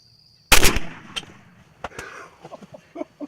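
A single sharp gunshot cracks loudly at a Rio Grande turkey during a Texas hunt, followed by fainter rustling and scattered knocks.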